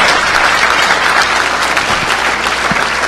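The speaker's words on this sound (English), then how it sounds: "So give yourself a round of applause." A packed hall at the DEF CON 12 hacking conference awards gives loud, sustained applause, a dense and even roar of many hands clapping at once with no voices over it.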